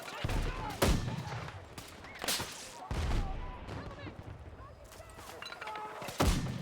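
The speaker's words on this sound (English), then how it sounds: "And the enemy mortar came back." Enemy mortar fire in Battlefield 6 multiplayer lands as several heavy, spaced blasts and thumps amid ongoing battle noise, loud and scattered across the scene, with a player's voice in the mix.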